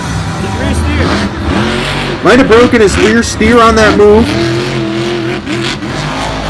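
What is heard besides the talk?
Gravedigger monster truck engine roaring at Monster Jam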